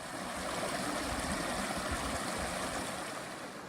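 Water in a creek along the Arizona Trail rushes and gurgles in a steady, full wash of sound, close and continuous with no voices over it.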